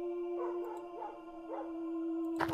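A dog howls in the video game Eye See... Bad Dream: Cyclops, three drawn-out howls in a row over a steady electronic drone, ending in a brief burst of noise.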